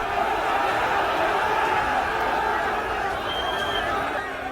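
A large, angry crowd of parents in Ahmedabad jostles with police, a dense continuous roar of many shouting voices, loud and close throughout.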